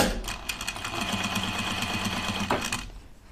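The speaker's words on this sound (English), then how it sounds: "I'm gonna try and edge stitch right on the edge of my serging" Sewing machine edge stitching along a serged seam on a sweatshirt armhole, running steadily with a close motor whir and rapid needle beat, then slowing and stopping near the end.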